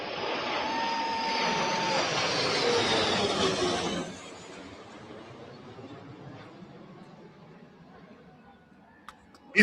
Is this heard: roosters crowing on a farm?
no